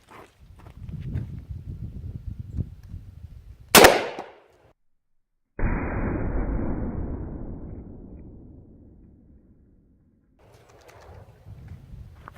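A 5.56 rifle shot with a 62 grain round fired into a hard drive cracks loudly once, sharp and close, after steady low rumbling background; a long noisy decaying wash follows a moment later.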